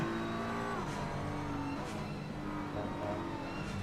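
GT3 race cars at Imola in a racing video game, with engines droning and shifting pitch as the cars accelerate and change gear, a continuous moderately loud roar and no talk.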